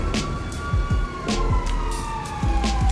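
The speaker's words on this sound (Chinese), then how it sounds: "消防车来了，消防车来了！" A fire truck siren in the video game GTA 5 wails loudly and steadily, with repeated whooping sweeps and some vehicle and game noise underneath.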